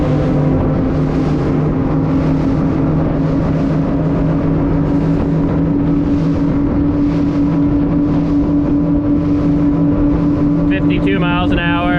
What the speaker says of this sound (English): Let's try and top her out now with the engines trimmed.